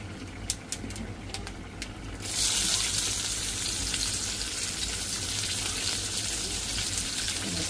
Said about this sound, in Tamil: கடுகு சீரகம் போடுவோம் அதோட வெங்காயம் பச்சை மிளகாய்